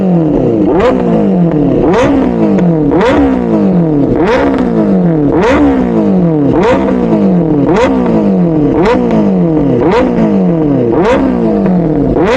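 A Benelli 600i motorcycle fitted with a free-flow exhaust is revved hard again and again, each sharp, loud throttle blip dropping back before the next in a steady, close rhythm.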